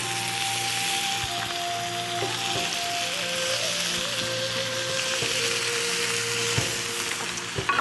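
Chicken kebabs sizzle steadily on a hot teppanyaki pan, a loud continuous frying hiss with crackling pops and faint clinks throughout, no talking.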